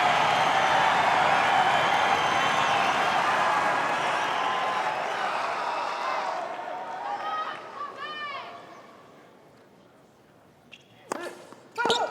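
Applause and cheering from a tennis crowd at the Australian Open fill the first half, dense and loud, then thin out into scattered claps, chatter and a few whistles as the noise fades near the end.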